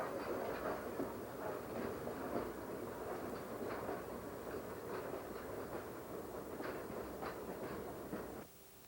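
A Canadian Pacific steam train bound for Buffalo rolls past in 1959 Ontario, a steady heavy rumble with rhythmic clickety-clack of wheels over rail joints, sustained and fairly close, before cutting off abruptly near the end.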